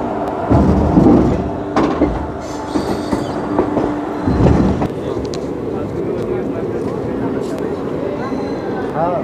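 A train slowing to a stop at a platform of Barauni railway station on the Ballia–Sealdah route, with rumbling carriages and squealing wheels mixed with passenger chatter and announcements in a busy general-class coach.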